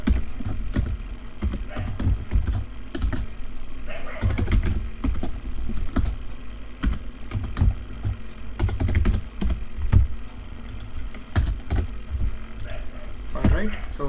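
Typing on a computer keyboard while writing a GitHub Readme file, a steady run of close, quick clicky keystrokes with irregular bursts and pauses, sometimes under low background talk.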